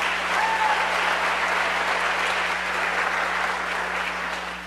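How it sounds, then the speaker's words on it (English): A crowd applauds steadily, a dense even patter of many hands clapping throughout, slowly tapering toward the end. "Let's give them a round of applause"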